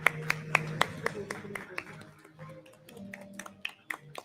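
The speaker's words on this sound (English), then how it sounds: "A huge round of applause, please." An audience at an award ceremony claps for a radiation oncology award winner: sharp, separate claps spaced in a loose rhythm, fairly near, with talk running underneath.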